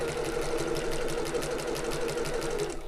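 A sewing machine stitches a tote bag seam about 3 mm from the edge at regular stitch length, a quiet, rapid, even mechanical chatter running continuously.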